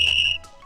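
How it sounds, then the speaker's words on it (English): A rechargeable 120 dB electric bike horn sounds a single loud, piercing whistle tone that holds for a moment and then fades out. "That's a whistle."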